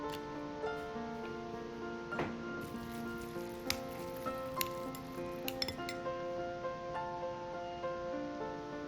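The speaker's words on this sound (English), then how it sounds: "Stir towards one direction until the beef gets sticky and soft." Ground beef mixed with egg white and cooking oil is stirred steadily in one direction in a bowl, giving repeated close clinks and taps of a utensil against the bowl over a constant soft background hum.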